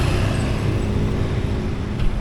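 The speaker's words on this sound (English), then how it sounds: "the motorbike just crossed in front of us" Steady street traffic in Surabaya, with a motorbike crossing close in front. The engine and road noise form a dense, continuous rumble that swells slightly near the end.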